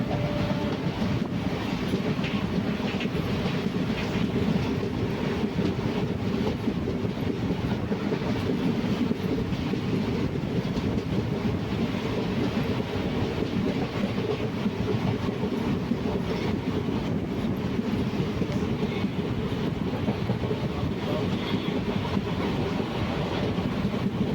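A steady rumble of a sleeper-class train rolling along the tracks in Kerala on a rainy morning, with a faint rhythmic clatter of wheels over rail joints, continuous and fairly close.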